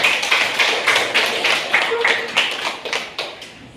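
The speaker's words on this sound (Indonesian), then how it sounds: "tepuk tangan semuanya dulu nak" Students in a classroom clap in a quick rhythmic pattern of sharp, evenly spaced claps, about a dozen over a few seconds, while a voice speaks faintly beneath.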